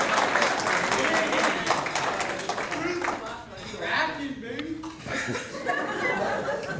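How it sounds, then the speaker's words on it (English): Audience at a hockey banquet claps in steady applause mixed with chuckles and laughter, the clapping thinning out partway as voices talk over it. "Just a round of applause."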